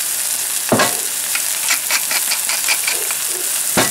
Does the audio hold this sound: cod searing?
yes